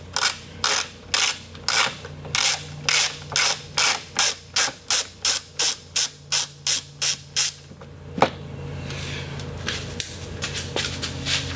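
A hand ratchet clicks back and forth loosening a 10mm nut on the fuel filter bracket of a BMW E46, in about fifteen even, loud close strokes, then stops, leaving a low hum and a soft clunk.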